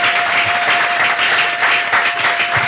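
A church congregation applauds in a steady, dense wash of clapping that fills the whole stretch, loud and close, with a faint sustained tone running underneath.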